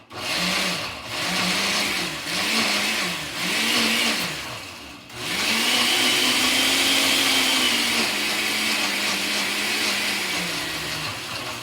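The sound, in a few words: blender blending white bean dip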